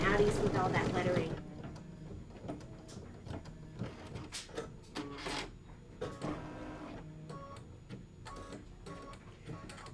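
Embroidery machine stitching a tack-down line on a quilting block, its needle producing rapid rhythmic ticking and clacking with irregular mechanical clunks, close by, preceded by a brief louder burst of talk.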